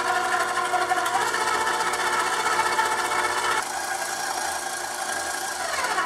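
An electric mixer beats butter and eggs for an orange cake batter, giving a steady, close mechanical whir that drops slightly in pitch partway through and carries on without any talking.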